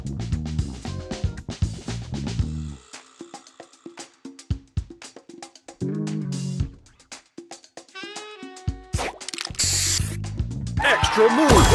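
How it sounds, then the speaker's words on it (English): Spray booster effect in a match-3 mobile puzzle game with mushrooms and greens, heard amid busy chimes, bloops and rising sparkly whooshes, ending in a loud hissing burst, with game voice callouts over the top. "Booster ready! Spray on!"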